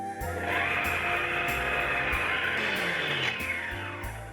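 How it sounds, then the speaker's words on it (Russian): A stand mixer whips butter cream in its bowl, a steady, loud motor whir with a rising and falling tone, running continuously and alone for a few seconds. "В чашу миксера отправляем ингредиенты для крема. Снова одеваем насадку миксер, устанавливаем чашу, опускаем головку"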